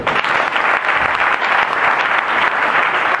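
A church congregation applauds together in a steady, dense burst of clapping that fills the room, loud and even throughout.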